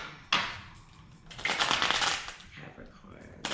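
Tarot cards are shuffled in two close riffling bursts: a short flutter, then a longer, louder run of rapid crisp card slaps.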